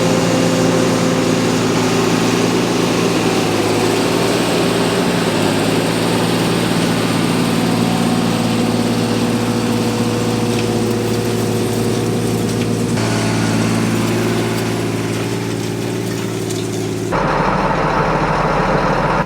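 A farm tractor pulling an Unverferth Zone Builder ripper through hard field ground runs with a steady, loud engine drone that holds even throughout, then shifts in tone near the end with no voices over it.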